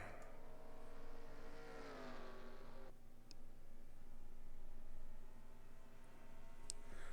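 Stock cars in a NASCAR-style racing game at New Hampshire, several engines revving and rising in pitch, one car sweeping past with a falling tone before a quieter steady drone continues, faint overall.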